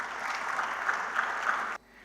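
An audience at a design conference in Surat claps in a dense, steady round of applause that cuts off abruptly near the end.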